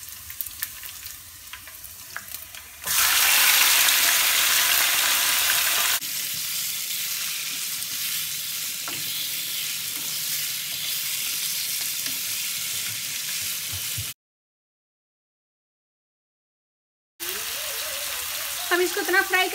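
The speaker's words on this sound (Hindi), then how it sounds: "हम इसको इतना फ्राई करेंगे कि ये" Chicken sizzles in a pan with chopped ginger, a steady crackling hiss that grows louder when stirred, briefly drops out, then resumes with spoken commentary over it.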